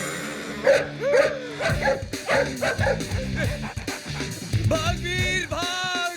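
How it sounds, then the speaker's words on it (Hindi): A dog shut inside a car barks, yips and whimpers repeatedly in a comedy film scene, close and loud, with a voice speaking over it. "अबे कुत्ते क्यों भौंक रहा है?"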